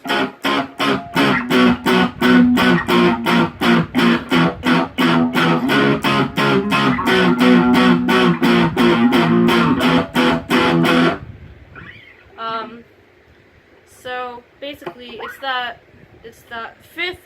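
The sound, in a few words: distorted electric guitar rhythm part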